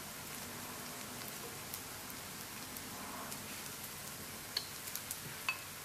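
Flatbread brushed with egg wash cooking in a covered pan, a faint steady sizzle with a few soft pops and ticks toward the end.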